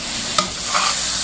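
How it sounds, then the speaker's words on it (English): Finely chopped tomatoes sauté in a pan for a butter chicken masala gravy, giving a steady soft sizzle with a single quick stir scrape partway through and another gentle stir shortly after. "We just cook them a little, saute it nicely till it becomes mushy"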